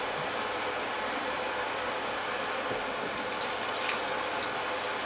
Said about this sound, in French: je vais y ajouter encore un petit peu d'eau pour vous faire voir comment